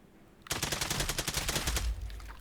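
A VR shooting game's gun opening up again after a pause: a fast, loud burst of automatic fire with evenly spaced close shots that runs for over a second, then stops, with no speech.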